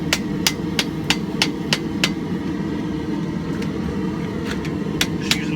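A Viking axe body forged from scrap is hammered open over the edge of an anvil. Sharp, ringing metallic strikes land at a quick, fairly even pace over a low steady background hum.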